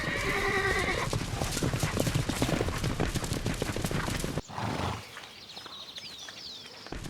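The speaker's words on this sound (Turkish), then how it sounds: "Dört nala koşan bir at saatte 45 kilometre hızda yolculuk eder." Galloping horse, hooves drumming in a rapid, loud rhythmic clatter before dropping off abruptly, leaving a quieter stretch with faint birdsong.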